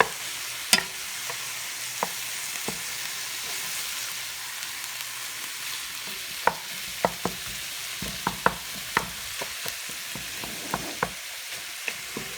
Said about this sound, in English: So that's still boiling.